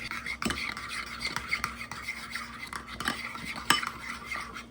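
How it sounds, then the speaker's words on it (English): A spoon stirs ketchup and mayonnaise together in a bowl at close range, making repeated scraping and clinking against the dish in a quick, uneven rhythm. "we just gonna stir that bad boy up"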